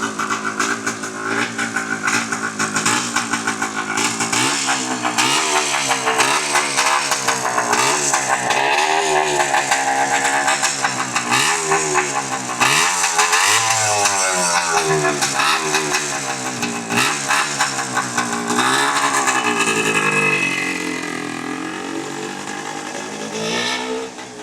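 Yamaha IT 250 dirt bike engine running during a ride, a loud two-stroke buzz with rising and falling revs and rattling, steady for over twenty seconds before easing off as the bike moves away.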